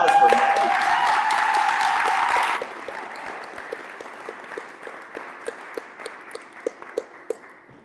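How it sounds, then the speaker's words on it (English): Applause fills a room for a poet about to read. The clapping is dense for about two and a half seconds, then thins to scattered faint claps and taps. "let's give a warm round of applause for Maddie"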